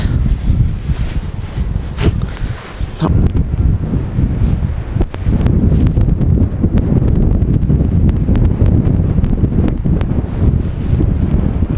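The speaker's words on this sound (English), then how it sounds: "Fighting me with the wind is quite difficult." Strong wind buffeting the microphone while cold-water margin fishing from a boat, a loud, continuous roar with gusty rustling and no talk.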